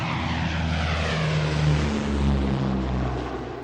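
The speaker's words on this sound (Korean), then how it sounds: "다시 투쟁을 시작하는 리비에르는 그 비행기의 굉음을 듣고 싶었다." Propeller airplane roaring overhead as an audiobook sound effect, a loud, steady engine drone that swells slightly in the middle and fades a little at the end, with no voices.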